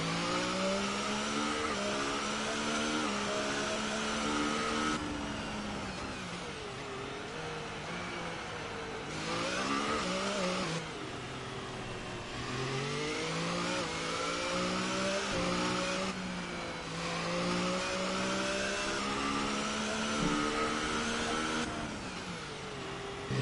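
A race car engine in a co-op racing video game on an Australian circuit, droning loudly and continuously with rising and falling pitch as it shifts up and down through the gears, with some tire noise beneath.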